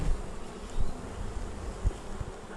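Honeybees in an open hive during a beekeeping inspection make a dense, continuous buzzing hum close by, with small swells and no voices.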